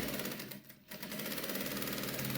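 A sewing machine stitches a pocket seam at close range with a rapid, even mechanical chatter, pausing briefly before running on steadily.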